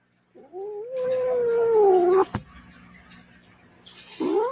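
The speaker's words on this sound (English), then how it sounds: "Yeah, you're a good kitty cat." A cat gives a long, drawn-out meow that is loud and close, rising and wavering for about two seconds. A sharp knock follows, then a second meow begins near the end.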